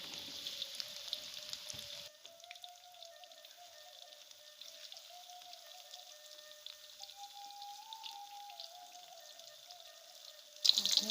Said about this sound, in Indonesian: Udah panas minyaknya, digoreng tempe dulu.